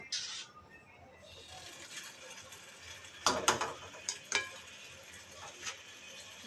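Noodles added to hot oil and stirred in a pan, with a continuous low sizzle broken by several sharp clattering scrapes and knocks of the utensil in the later seconds, close by.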